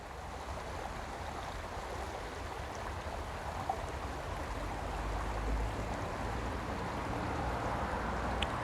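Steady rushing water flows continuously, a soft broadband wash like a river current, constant and moderately distant with no voices.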